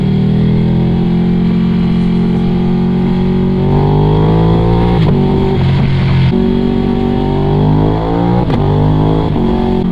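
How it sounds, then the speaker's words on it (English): A Ducati Streetfighter V2 motorcycle with a full Akrapovic exhaust, ridden and downshifting. The loud, close engine note steps down in pitch several times and blips between gears, with a constant rumbling drone throughout. "But the downshift sounds so cool."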